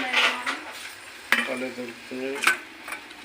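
A spoon or whisk stirs egg into cake batter in a bowl, giving a few short scraping, clinking strokes up close, with faint background voice.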